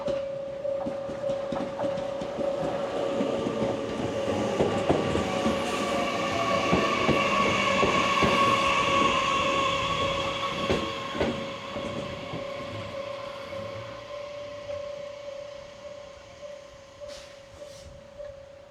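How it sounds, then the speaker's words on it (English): A train on the line to Shirahama via the Kii Peninsula rolls past close by on the Japanese coast, a steady loud rumble with rail clatter and a sustained wheel squeal, swelling mid-pass then fading away. "this is the train that goes back to Shirahama via Kii Peninsula, which is not the train that I need to board"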